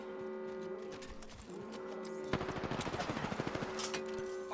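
Gunfire in Apex Legends: a rapid burst of automatic shots sounds as a rhythmic string of sharp cracks over a constant tonal hum of game sound.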